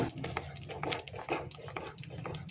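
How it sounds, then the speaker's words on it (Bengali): A spatula scrapes and taps rhythmically in a pan while stirring chhana sweetened with sugar and date-palm jaggery, soft repeated strokes close by and fairly quiet. "এতে চিনি দিয়েছি একটু আর গুড় দিয়েছি তো ক্রমাগত নাড়তে হবে নাহলে এটা ডালা ডালা হয়ে যাবে"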